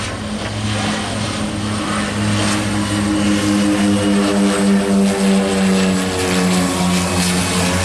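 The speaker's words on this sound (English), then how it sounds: "Now looking over to your left, once again, we got another aircraft approaching." A propeller airplane approaching to land at Princess Juliana International Airport on St. Maarten, its engine drone loud and close with steady harmonic tones that swell slightly as it nears, heard alone without talk.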